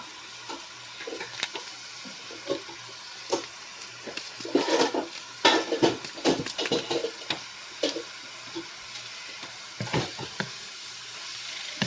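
Ground pork seasoned with taco powder cooks in a pan for nachos, a soft sizzle under scattered scraping and stirring clatter from a utensil, close and without talk.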